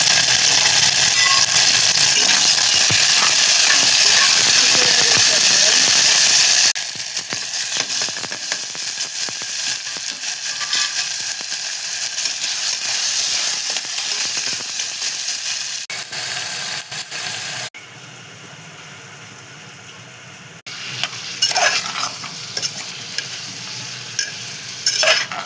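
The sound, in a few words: mustard seeds, cumin, onion and ginger-garlic paste frying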